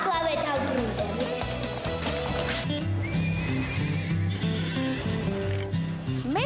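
Horses on a ranch neigh and whinny loudly over a steady clip-clop of hooves, with mechanical rattling and a continuous dense backdrop; voices are present throughout.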